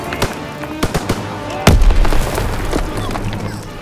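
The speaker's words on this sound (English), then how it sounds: "tossing out a grenade!" Grenade blast in Call of Duty: WWII amid a firefight, a sharp heavy boom near the middle after several scattered gunshot cracks, with a lingering rumble trailing off.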